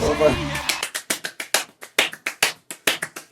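A voice speaks briefly, then sharp, close hand claps ring out alone as percussion, about a dozen crisp single claps in an uneven rhythmic pattern with clear gaps between them.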